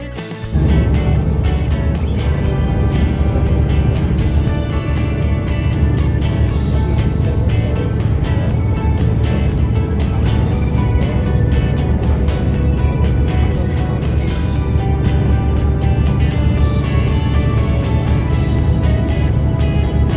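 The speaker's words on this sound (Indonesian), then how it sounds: "bus langsung belok masuk tol, nggak pakai basa-basi" A Transjakarta P11 bus cruises along the Jagorawi toll road, its engine and road noise a loud, continuous droning rumble from start to finish.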